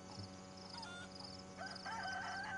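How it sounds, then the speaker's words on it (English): Chickens cluck and crow in the survival game DayZ, set in Livonia, a few short calls rising near the end over a steady ambient game hum. "usually zombies be running after the chicken"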